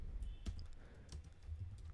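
A few soft, scattered keystrokes on a computer keyboard, quiet and close, with faint clicks spread across a brief moment.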